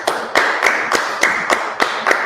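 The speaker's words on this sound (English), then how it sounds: "All right, let's clap it up." Sharp, evenly spaced claps from an audience, about eight crisp hits in a steady rhythm, close and fairly loud with no voices.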